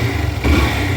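Yamaha FZ version 2 motorcycle engine idling with a rough, faulty-sounding rumble, close and steady, with a slight rise in intensity partway through.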